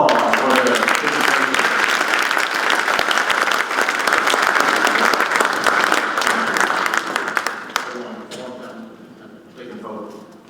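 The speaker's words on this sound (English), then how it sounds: "So let's give these 2 participants a round of applause for their participation." A banquet audience at a Black chamber of commerce dinner applauds two participants with vigorous, dense clapping that thins out and dies away after about seven seconds, followed by a quieter stretch with a voice speaking.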